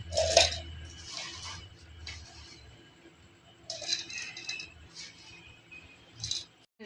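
Dried coconut pieces drop into a mixer jar while laddu is being made, giving a few short bursts of clattering, clinking impacts spread across a quiet stretch with no talk.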